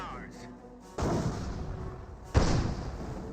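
Artillery barrage in Company of Heroes 1, two heavy shell impacts about a second and a half apart, each a loud booming crash with a rumbling tail, over quieter battlefield sounds.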